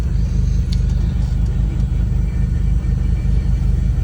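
Turbocharged Acura Legend with a twin-disc clutch idling close by, a steady low engine rumble with a continuous chattering clutch rattle and slight rises and dips in level.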